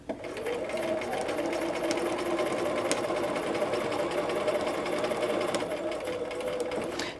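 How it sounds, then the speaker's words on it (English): Sewing machine stitching a dart in fabric, a steady close mechanical whirr with rapid needle chatter, running continuously at a moderate level. "I'm going to keep sewing forward, staying on that line and removing each pin as I get to it"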